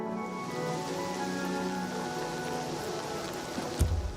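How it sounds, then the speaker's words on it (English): Steady, dense rain falls over a swampy marsh in Oblivion Remastered, a constant even hiss with a soft sustained tone beneath and one dull thump near the end. "I feel like it does rain a lot here."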